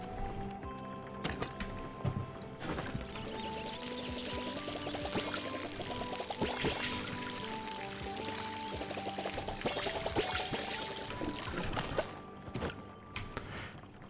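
Watering plants in the video game Palia: a steady pouring, splashing water sound runs through the clip under layered background game music, with a few brief soft thumps.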